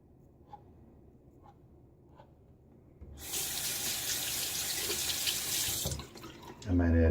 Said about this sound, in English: I might add just a little more water.